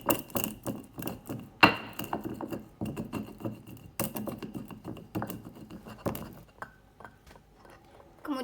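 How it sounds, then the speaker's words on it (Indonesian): Pepper and coriander being ground for chicken soto, close scraping and crunching strokes in a steady irregular rhythm, with sharper knocks now and then, fading lighter toward the end without talk. "merica dan ketumbar kita haluskan terlebih dahulu"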